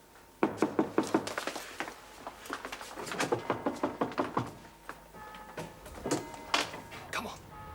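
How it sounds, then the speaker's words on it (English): A run of knocks on a door, loud and close, coming in quick irregular clusters over several seconds, with a hum in the background. "Well, knock at his door then."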